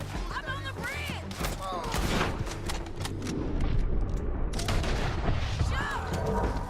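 Gunfire and booming shots from a Red Dead Redemption 2 shootout, a run of sharp cracks and thuds over a dense game mix, with excited voices shouting over the action.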